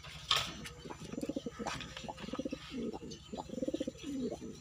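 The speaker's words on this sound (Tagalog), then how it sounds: "Ayan siya mga kalapatids, no? Kunin na rin natin si Brownie para mapagsama natin" Pigeons coo in a breeding cage, a steady run of soft, throaty, rhythmic coos repeating up close with a few faint chirps over a low hum.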